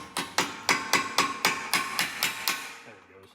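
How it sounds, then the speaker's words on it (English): Steel punch struck with a hammer to drive out a front brake caliper pin on a 2005 Volkswagen Touareg, nine sharp metallic blows in a steady, evenly spaced rhythm, close and loud. "Take a punch and a hammer. And just kind of run this out"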